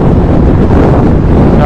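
Strong wind blasting against a microphone on a heavy, modified touring motorcycle with saddlebags, ridden two-up on a highway in a couple's ride from Belgaum to Hosur, a loud, steady roar of buffeting with no break.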